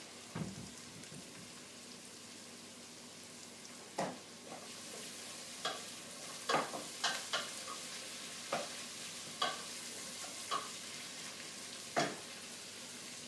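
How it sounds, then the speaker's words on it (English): Vegetables sizzle in a hot pan, a soft steady crackle punctuated by a dozen or so sharper pops and spatters scattered throughout, close and fairly quiet. "The veg is cooking down fast."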